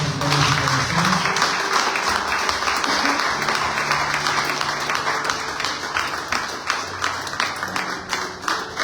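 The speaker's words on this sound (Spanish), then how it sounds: "Aplauda la guerra, por favor, en el nombre de Jesús" A church congregation claps in a long, dense burst during a worship service, the applause carrying on under voices and sustained tones.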